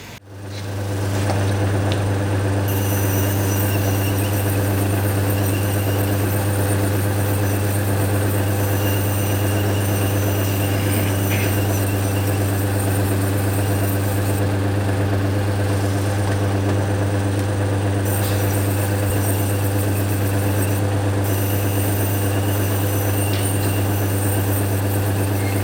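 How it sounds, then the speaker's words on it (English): A sanding machine works an agate cabochon with a steady drone, a strong low hum and a constant abrasive whir, running unbroken throughout. "now we're going to start sanding it"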